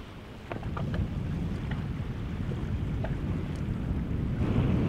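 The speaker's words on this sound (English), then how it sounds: "Well, it's windy." Wind rumbles steadily against the microphone outdoors near water, a low constant roar with a few faint knocks and clicks.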